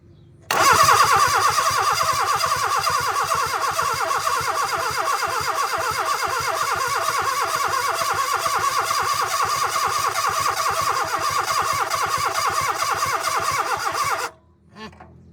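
A 1972 Plymouth Cricket engine cranks on its starter in one long unbroken stretch of about fourteen seconds, a loud, rhythmic churning whir that stops abruptly without the engine catching.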